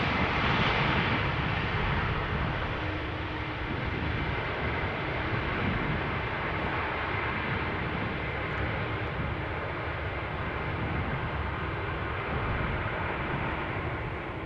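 A large airliner rolling on the runway at Amsterdam Schiphol Airport produces a steady, loud engine roar and rumble that holds evenly throughout with no voices.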